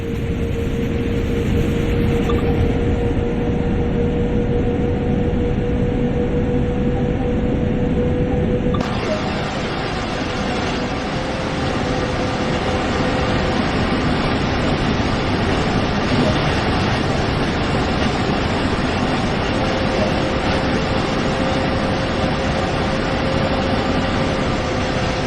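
A train running in Train Sim World, with a loud continuous rumble of wheels and motor and a steady whining tone, shifting in character partway through as the view changes.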